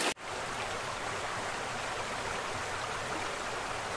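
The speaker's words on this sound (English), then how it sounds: "It has rained nonstop for more than a month." Heavy, nonstop rain pours as a dense, even hiss. It stays steady and loud throughout, with no voices.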